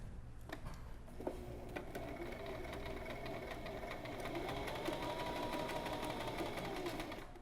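A sewing machine stitches a fabric hem, running in a steady continuous mechanical whir with rapid repetitive ticking, fairly quiet and close, with no voices.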